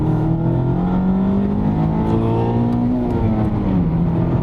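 Mazda MX-5 Miata ND engine pulling hard during spirited road driving, a loud, close in-cabin rasp that climbs steadily in pitch through the revs, with no speech over it.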